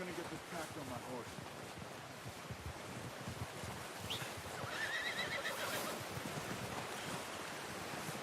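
A horse whinnies and its hooves clop in Red Dead Redemption 2, heard over a steady wash of wind and surf-like ambience; the neigh stands out midway while faint background voices and movement continue.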